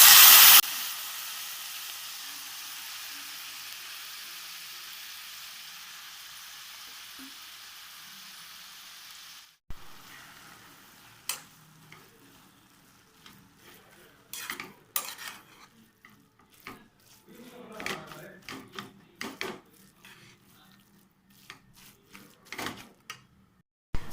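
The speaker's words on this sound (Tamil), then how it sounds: "நெய் சூடேறினதும் துருவி வச்சிருக்க தர்பூசணி தோலை சேர்த்துடலாம்" Grated watermelon rind cooks in hot ghee in a kadai. A steady hiss fades into quiet, then sharp scrapes, stirring clatter and metal clinks of a spoon against the pan come in irregular bursts. No voices.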